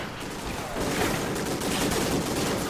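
Dense gunfire from the Call of Duty Ghosts campaign, a continuous rattling burst of shots that fills the whole moment with loud, steady noise and no talking.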